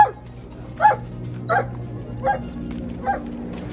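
A dog trapped in a collapsed apartment building after an earthquake in Turkey barks five times at a steady, evenly spaced pace over a constant low hum, each bark short and sharp.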